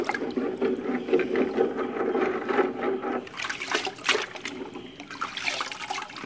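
Ceramic filter media (Marine Pure) shaken around in a container of clean water while cleaning a canister aquarium filter: close, continuous sloshing and splashing with gurgling trickles, steady throughout with no voices.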